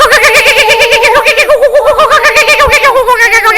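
A person imitates a kookaburra's call, a loud, rapid warbling cackle that rises and falls in continuous laugh-like bursts for several seconds.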